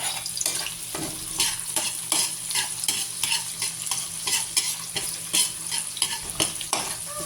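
Onions frying in a pan for pork dinuguan: a loud, steady sizzle broken by repeated rhythmic scrapes and stirs of a utensil, with no voices.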